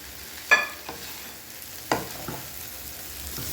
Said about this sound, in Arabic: ونقلب بقى شويه كده ايه لحد بتاع الفلفل بتاعنا ما ايه ما يدبل شويه